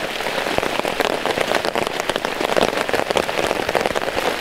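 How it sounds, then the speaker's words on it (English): Heavy rain drums on a camping tarp in a dense, constant patter of close droplets, loud and unbroken with no voices. "the pitter-patter of the rain is relaxing him"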